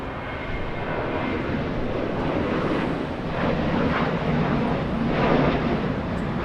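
Aircraft landing on runway 25 left at Los Angeles International Airport, a continuous engine rumble with wind buffeting, swelling slightly louder in the second half, no talk.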